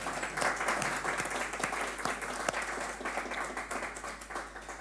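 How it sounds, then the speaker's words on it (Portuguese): Sustained audience applause at a live TV talk show taping, dense steady clapping with sharp individual claps standing out, fairly close and continuous throughout. "E agora eram as palmas."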